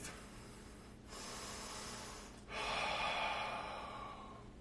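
A slow breath drawn in and out during a gentle yoga flow, two soft airy exhalations that swell and fade, close and quiet, with no talking.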